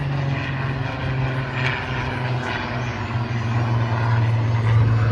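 A P-51 Mustang warplane passes at the Blackpool air show, a steady droning propeller engine roar holding strong and fairly close, swelling slightly toward the end.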